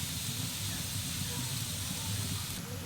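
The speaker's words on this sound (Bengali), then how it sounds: "এখানে পেঁয়াজ আর রসুন ভালো করে আমি লাল করে ভেজে নিয়েছি।" A steady, close sizzle and hiss comes from onions and garlic frying red-brown in a pan for aloo chilli, continuous and fairly loud with no pauses.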